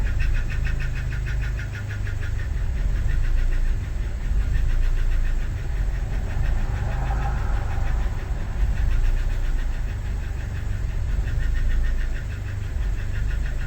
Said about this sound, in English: You were watching an ECU learning its idle firsthand.